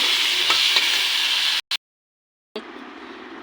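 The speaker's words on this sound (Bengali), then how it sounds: "এখানে এখন আলুটা ভাজি বসিয়ে দিয়েছি, আলুটা ফ্রাই করে নেব।" Potatoes fry in a pan with a loud, close, steady sizzle and a few stirring scrapes. The sound cuts out briefly into silence, then the sizzle resumes at a slightly lower level.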